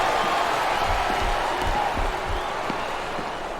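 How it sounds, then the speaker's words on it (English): Crowd cheering and applauding at a WWE wrestling event in SmackDown vs. Raw 2007, a steady roar of fans with scattered whoops and low thumps running through the whole stretch. "Now the fans start to cheer for him."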